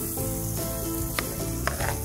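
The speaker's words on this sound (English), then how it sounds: "And then we can add half the apples to each frying pan." Apple slices with the skin on sizzle and fry in butter in camp-style frying pans, a steady close hiss with a couple of small crackles and scrapes.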